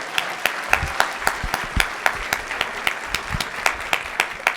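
Audience applause at a Republican 3rd district convention honoring Coweta law enforcement officers, a steady, fairly sparse run of sharp individual claps with distinct hand strikes standing out, close and moderately loud with no talking.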